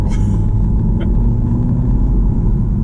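Alfa Romeo Giulia, a 2020 sedan, heard from inside while driving through a quick lane change: a steady low road and engine rumble that holds evenly throughout, with a faint brief tick partway through.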